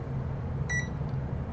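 A HoldPeak HP-90BS digital multimeter gives a single short, high electronic beep over a low, steady room hum.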